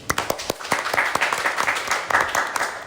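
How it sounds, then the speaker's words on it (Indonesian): A small studio audience claps for two guests at the close of a podcast, with close, sharp individual claps building into a brief, lively round that fades slightly near the end. "tepuk tangan untuk mas-mas ini"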